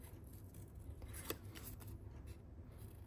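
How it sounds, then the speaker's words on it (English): Scissors snip through paper while trimming around a handmade Stampin' Up card border, giving a quiet, steady scratching cut with a slightly sharper snip near the middle and no talk. "Cut off that extra paper as you go. Stay in the middle of your scissors and use your opposite hand to turn the paper."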